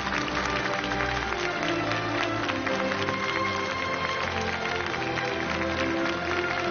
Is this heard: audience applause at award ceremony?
yes